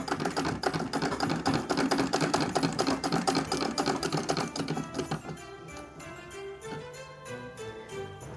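A sewing machine stitches a seam on a fabric rice bag with a rapid, even mechanical chatter, then slows to a quieter, lighter run near the end.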